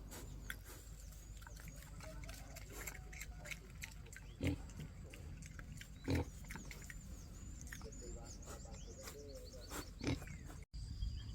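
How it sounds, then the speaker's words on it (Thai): Pigs munch on chopped banana trunk, with quiet, wet chewing and grunting throughout, several soft bumps and knocks, and someone talking faintly in the background. "เราก็เอาต้นกล้วยมาสับสับสับนะคะให้น้องหมูกินนะคะ"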